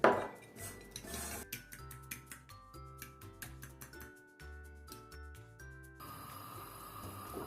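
Two eggs with salt whisked briskly in a bowl, a fork or whisk clinking rapidly and rhythmically against the sides up close, growing into a denser, steadier clatter toward the end with no talking.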